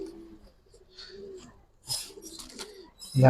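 A Giribaz pigeon coos softly in a short low phrase near the start, followed by scattered bumps and rustles and a sharp louder noise at the end.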